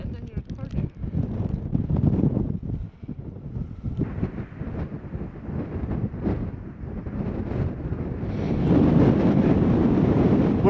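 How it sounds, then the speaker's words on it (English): Strong wind buffeting the microphone near the top of a ridge on a hike around Corrour Station, a loud continuous roar that rises toward the end, with people talking over it. "it's getting really windy"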